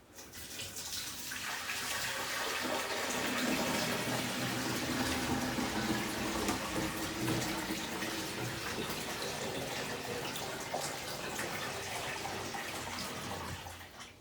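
Steady rushing water pours continuously into a glass reptile and fish tank, a broad hiss with a low churning undertone, close and loud throughout.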